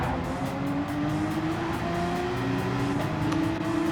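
Audi race car on track, a loud sustained engine note that shifts in pitch as it slows under braking, close and continuous with no talk.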